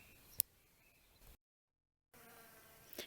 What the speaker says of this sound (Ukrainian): Вже вечора бджоли ще літають.